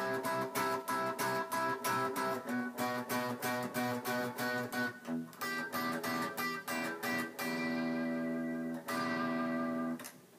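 An electric guitar plays a series of picked counterpoint chords, outer voices moving apart, sometimes in quick repeated strums, then lets a final chord ring out.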